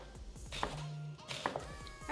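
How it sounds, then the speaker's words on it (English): A knife slicing onions into thin strips on a cutting board, a quick run of light, evenly spaced taps and thunks, close and fairly quiet. "So we'll slice up our onions. You want kind of thin strips."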